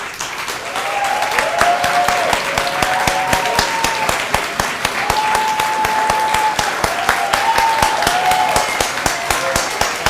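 A graduation ceremony audience applauds continuously, with dense, loud clapping from many people filling a hall, steady throughout.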